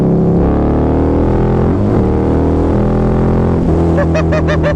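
A Harley-Davidson V-Rod motorcycle engine runs at low RPM, a loud, close, steady throb whose pitch rises gently and dips before pulsing again, with wind rushing over it.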